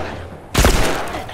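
A single sharp gunshot blast in The Last of Us, a sudden loud boom after a quieter moment, ringing briefly before fading.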